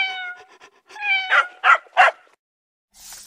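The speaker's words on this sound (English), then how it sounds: "Second is the kitty." A kitten meows in a wavering, high-pitched run of calls, rising into three louder, sharper meows close by, with no talking, before a short hiss of noise at the end.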